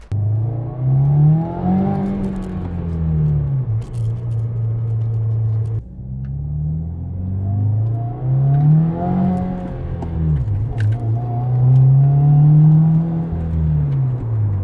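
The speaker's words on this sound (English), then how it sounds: "It only happens on the new engines for the WRX, and it's the rev hang" A 2019 Subaru WRX engine revs up and then slowly falls back with rev hang, the revs lingering before dropping, with a steady low rumble throughout, close and loud.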